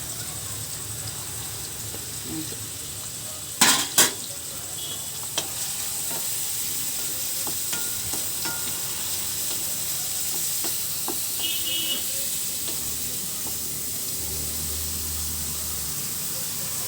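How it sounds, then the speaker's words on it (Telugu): Capsicum and carrot fry in hot oil in a pan for egg fried rice, giving a steady sizzling hiss with a few sharp clatters of stirring early on. "క్యాప్సికమ్ క్యారెట్ ఇవన్నీ వేయించుకోవాలండి"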